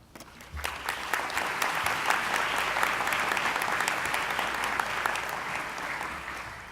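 A commencement crowd at a college graduation ceremony applauds in a broad, continuous wave of clapping that swells and holds for several seconds, filling the hall without any voices on top.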